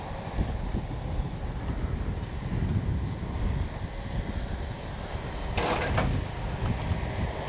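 Strong wind buffets the microphone outdoors at a field where an FMS Ranger 1220 mm RC airplane is flying, a continuous rushing roar with gusty swells and a brief louder burst partway through.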